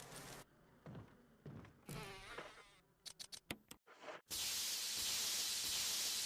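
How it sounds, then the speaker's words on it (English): Swarm of bees pouring from a giant beehive in the Resident Evil remake, a dense hissing buzz rising loud and steady after a stretch of scattered game noises and short bursts. "There's a giant beehive."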